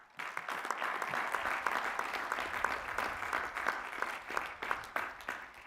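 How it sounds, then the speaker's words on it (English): An audience at a graduate commencement ceremony for the classes of 2020 and 2021 applauds the master's degree candidates, sustained clapping from a large crowd with a few louder individual claps standing out. "congratulations and applause."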